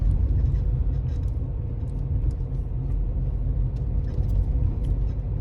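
A car engine hums at a steady, loud low rumble as the vehicle gains a little speed on a driving-test exam route in Ivano-Frankivsk, with continuous road noise and no talk.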